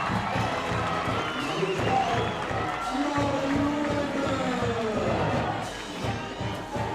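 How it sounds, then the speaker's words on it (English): Home crowd at a UCLA versus USC women's water polo match cheering after a penalty goal, a loud, continuous roar with shouts, whistles and some clapping running under a commentator's voice. "And she makes it, and the crowd again goes wild."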